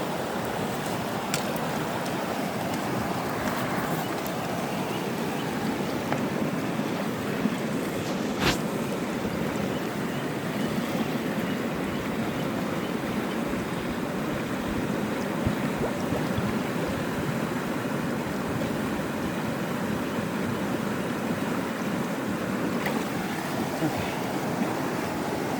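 The upper Rogue River flows steadily along a trail, a continuous mid-distance rush of water with some wind buffeting the microphone.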